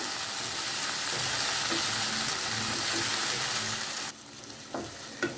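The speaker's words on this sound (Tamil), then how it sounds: "தக்காளி சேர்த்துட்டு நல்லா மிக்ஸ் பண்ணி விட்டுருங்க" Tomatoes stirred and sautéed in a pan for homemade Kumbakonam kadappa, a steady close sizzle and fry with scraping stir motions, then quieter with a few sharp clinks of the spoon at the end.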